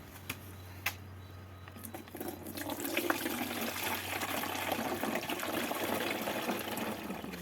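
Liquid is poured into a sprayer tank for treating apricot trees with Bordeaux mixture, a steady close gushing fill after a few light knocks, quiet and continuous to the end.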